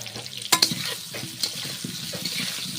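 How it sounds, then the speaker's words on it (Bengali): Potatoes frying in a pan give a steady sizzle, broken by a few sharp stirring clatters near the start and softer scrapes through the rest, with no voices. "আলুটা ভাজা হচ্ছে"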